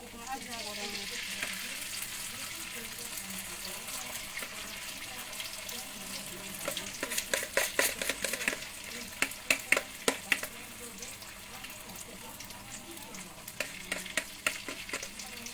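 Tempe mendoan sizzles as it fries in oil, a steady bubbling hiss with bursts of sharp crackles and spatters toward the middle and end.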